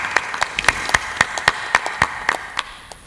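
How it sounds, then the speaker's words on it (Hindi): An audience at a spiritual discourse claps in a steady, rhythmic unison beat, about a dozen crisp claps at a brisk even pace, moderately loud with no voices. "ऐसे वैज्ञानिक के अभिनंदन के लिए ताली बजाइए आप"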